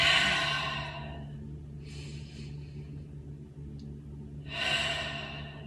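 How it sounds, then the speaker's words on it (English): Slow, deep breaths during seated yoga, each long airy inhale or exhale rising and fading in turn, heard close and alone in a quiet room with a soft hum beneath. "Take 2 deep breaths."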